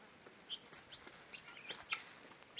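Laying hens cluck behind a hut, making faint scattered calls at a distance over quiet outdoor background noise.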